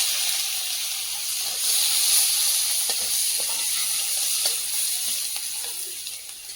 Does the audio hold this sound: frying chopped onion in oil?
yes